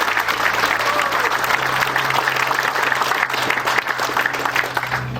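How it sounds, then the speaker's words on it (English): A crowd at a community honoring ceremony gives sustained applause for sponsoring organizations, loud and continuous clapping filling the room from start to finish, with faint murmurs underneath. "One last round of applause for these organizations"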